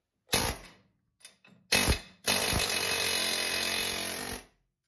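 Short bursts of loud pneumatic hammering on a 2004 GMC 2500HD ball joint, then a sustained rapid rattling blast lasting a couple of seconds before it stops.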